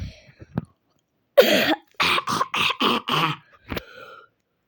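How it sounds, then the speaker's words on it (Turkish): A burst of harsh coughing up close, one heavy cough followed by four or five quick rasping coughs in a row, then a final shorter one. "Öyle bir öksürüğüm geldi ki."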